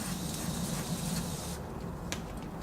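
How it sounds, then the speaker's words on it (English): Carb cleaner sprayed from an aerosol can into the spindle hole on a 2004-2008 Nissan Murano, a steady close hiss lasting about a second and a half before cutting off, with a brief clank after. "I'm going to go ahead and spray that out real quick with some carb cleaner."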